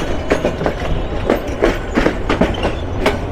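The 782 Kishoreganj Express rolling at Narsingdi station, loud rhythmic clickety-clack of wheels over rail joints with a steady running rumble, no voices.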